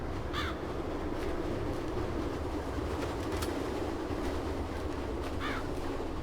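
A train rolls through the Railhead level of the video game ADACA with a loud, steady rumble and clatter, broken by two shrill, caw-like squeals near the start and end.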